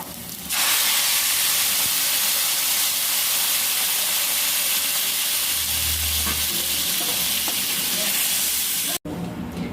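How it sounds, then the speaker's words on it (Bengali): Water poured into a hot pan of muri ghonto, a Bengali fish-head and rice dish, sets off a loud, steady hiss and sizzle of steam that holds for about nine seconds before cutting off abruptly. "এবার আমি জল দিয়ে দেব"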